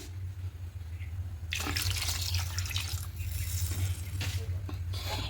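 Water poured into a cooking pot holding papaya and potato pieces for a thin tilapia curry, a steady rushing splash that starts partway through and runs loud and close over a low hum, with no talk.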